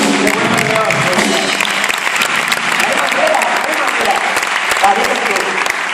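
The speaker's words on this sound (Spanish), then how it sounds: "Un aplauso para Raúl." Festival audience breaks into loud, dense applause from a crowd, a sustained wash of clapping close by that holds steady for several seconds with a few voices mixed in.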